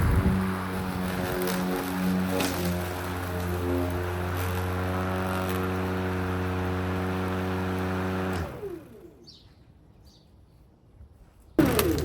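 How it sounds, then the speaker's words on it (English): A battery-powered lawn mower runs about 30 feet away, giving a steady, even motor hum for roughly eight seconds before it cuts out, leaving near silence. "Here's a better idea of how quiet the mower is from 30 feet away. This is what it sounds like."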